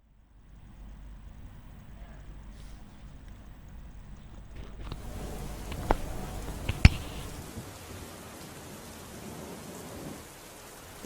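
Steady rain pours down during Cyclone Biparjoy, building to a heavier downpour as two sharp, close thunder cracks break through near the end.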